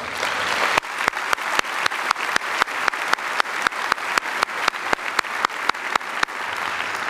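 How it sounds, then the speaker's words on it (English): Audience applause at a 2012 high school graduation ceremony, a dense steady roar of clapping cut by a regular series of sharp, evenly spaced thumps like a rhythmic beat. "How about a round of applause for those students?"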